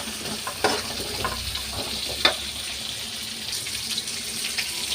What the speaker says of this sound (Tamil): கொஞ்சம் நேரம் நல்லா வதக்கிட்டு அப்புறம் தண்ணி ஊற்றி வேக வைக்கணும்